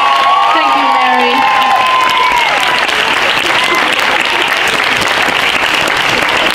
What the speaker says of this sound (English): Could you clap for teacher Christine, please?